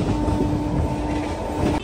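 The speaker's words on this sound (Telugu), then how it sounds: "హైదరాబాద్ సిటీలో మన గౌతమి ఎక్స్ప్రెస్ క్రూజింగ్ స్పీడ్ ఇది." Gowtami Express rolling through Hyderabad at cruising speed, a steady loud rumble of wheels on rails with faint clickety-clack and a sustained high tone, continuous for the whole stretch.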